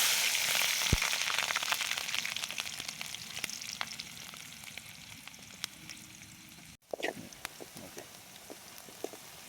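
Onions and chilies fry steadily in hot oil at a group campsite, with a continuous close sizzle and scattered crackles as the pan is stirred. A brief scrape and a short pause come near the end.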